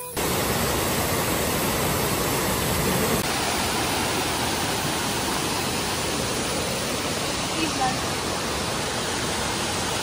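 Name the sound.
Vera Falls waterfall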